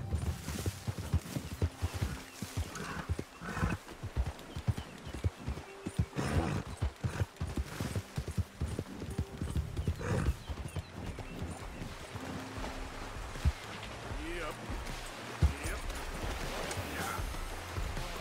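Rhythmic hoofbeats of a galloping horse in the video game Red Dead Redemption 2, moderately close, mixed with game ambience and a brief whinny, with occasional quiet speech.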